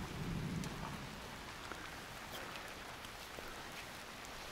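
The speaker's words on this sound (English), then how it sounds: "oh, it's now raining a little bit more." Steady rain falls over an open outdoor area near the Basilica camping grounds at the sacred site of Oropa, Italy, a dense, even hiss of drops running throughout, slightly fuller at the start, with no voices.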